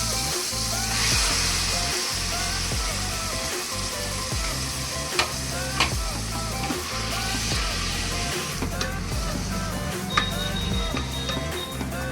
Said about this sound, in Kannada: ಚೆನ್ನಾಗಿ ಫ್ರೈ ಆದಮೇಲೆ ಅದಕ್ಕೆ ಟೊಮೊಟೊ ಆ್ಯಡ್ ಮಾಡ್ಕೊತಾ ಇದ್ದೀನಿ